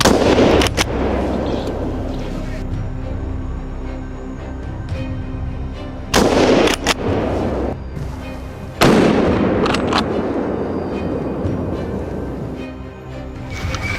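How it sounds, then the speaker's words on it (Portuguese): Several loud gunshots from a wild boar hunt crack out at irregular intervals in a European forest, each followed by a long rolling echo over a steady background hum. "criando oportunidades para disparos consecutivos"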